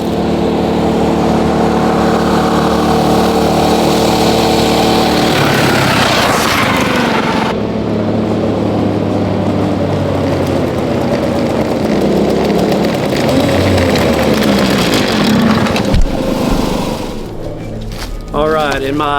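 A small mini bike engine runs loud and close, revving and droning as it rides, with pitch shifts as speed changes and a person talking over it.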